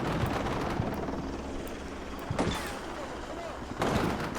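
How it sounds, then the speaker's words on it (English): Helicopter air support in the war game Combat Mission: Shock Force 2, a steady rotor and engine drone over a dense battlefield rumble, with louder bursts of noise near the middle and end, and talk mixed in. "Helicopter air support incoming"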